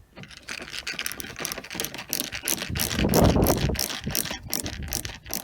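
Screws are tightened by hand on a VW T5 Transporter van, with a rapid, close series of ratcheting clicks and small metallic ticks continuing steadily throughout.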